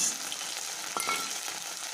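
Ginger, garlic and onion fry in hot mustard oil in a kadai for a chicken curry, giving a steady close sizzle with a brief stirring scrape partway through and no talking.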